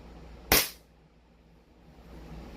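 A single sharp crack from an airsoft pistol, a 2011 STI Costa Ludus, fired through a chronograph, standing alone against quiet room noise.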